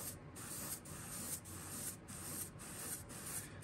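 An airbrush sprays paint on low pressure through a 3D stencil onto a transparent bluegill fishing lure, a close airy hiss pulsing in short repeated bursts about every half second.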